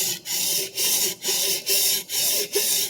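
A vintage Clyde Cutlery chef knife is sharpened along its bevel with six even, rasping strokes in a steady back-and-forth rhythm, close and alone.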